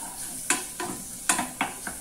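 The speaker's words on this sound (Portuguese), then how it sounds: "E aí vou fritar." Bacon pieces with a bay leaf fry in a little oil, a steady close sizzle broken by five quick scraping stirs against the pan in under two seconds.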